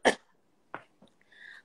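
Two short coughs sound close and fairly loud: a sharp one, then a lighter one, with faint breathy sounds trailing after.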